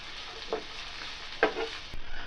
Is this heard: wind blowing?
no